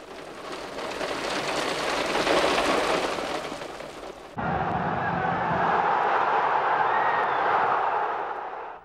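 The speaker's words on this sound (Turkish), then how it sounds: "Duanın üzerinden 5 dakika geçmeden başlayan şiddetli yağmursa herkesi hayrete düşürdü." Heavy rain pours steadily throughout, a dense broadband hiss of downpour that shifts abruptly midway to a brighter, closer drumming on a surface, loud and continuous with no voices.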